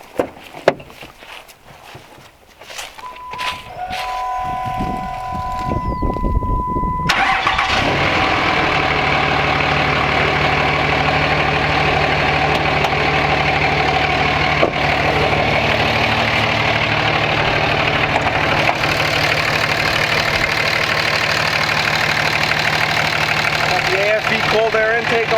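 A 2006 Dodge single-cab pickup with its original Cummins diesel, 102,000 miles, cold air intake and 5-inch MBRP turbo-back exhaust, cranks briefly, catches and settles into a loud, steady low diesel idle that runs on evenly.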